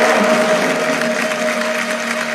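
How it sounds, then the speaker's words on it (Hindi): Loud, steady applause rings out for a whole team at a stage event, dense clapping throughout without pause. "एक बार जोरदार तालियां हो जाए पूरी टीम के लिए।"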